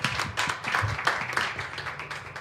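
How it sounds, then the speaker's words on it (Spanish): A small audience at a casual interview show held in a pizzeria applauds a guest, with a run of close, brisk claps at an uneven rhythm and little or no talk over them. "Un aplauso para nuestra invitada."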